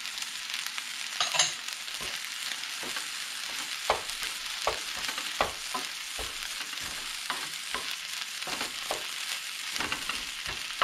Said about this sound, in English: Stir fry rice with egg.